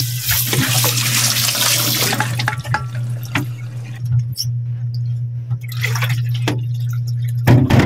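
Tap water runs and splashes into a basin as water spinach (kangkong) is washed for pork-rib sinigang, loud and close, with a steady electrical hum beneath and a few distinct drips as the flow eases.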